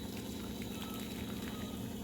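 Hot water poured over rice to wash it before soaking, in a home kitchen preparing Naga food; a steady, continuous splashing rush of liquid, close and fairly loud, running unbroken throughout with no talking.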